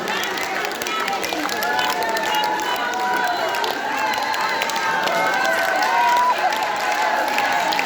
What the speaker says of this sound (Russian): Аплодисменты, бурные аплодисменты, дорогие друзья